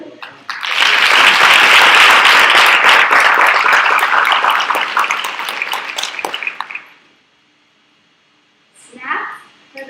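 A large audience at a United Nations youth-led briefing applauds loudly and steadily for several seconds, the clapping dense and close before thinning out and stopping, followed by a short burst of voices.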